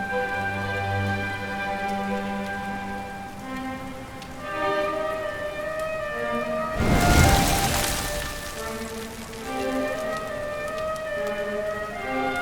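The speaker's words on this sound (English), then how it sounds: "Looks like the rain's dying down." Steady rain falls in Dragon Quest 11, a continuous patter under sustained musical tones, with a brief louder burst of rumbling noise midway before the gentle downpour resumes.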